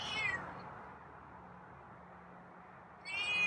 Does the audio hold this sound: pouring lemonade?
no